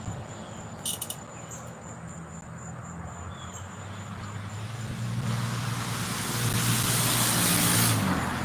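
An old, worn car rolls in on a quiet Sunday morning, its engine noise swelling gradually from faint to fairly loud while crickets chirp steadily throughout and a few sharp clicks sound early on.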